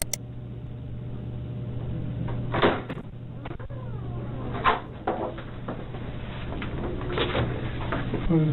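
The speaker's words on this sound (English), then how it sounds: "he will hear the sound of the door being opened by a detective" A detective opens a door with a few soft knocks and clicks of the latch and frame, spaced out over a quiet, steady low hum.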